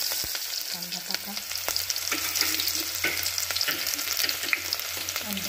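Onion sizzles and fries in a hot pan, a steady crackling hiss with scattered pops and occasional stirring scrapes, close and alone without talk.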